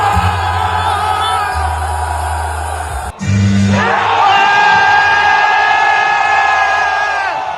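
A dense arena crowd roars throughout, loud and continuous, with a brief dip midway before the noise surges back up; jeering and booing greet Logan Paul's entrance at a wrestling event in France.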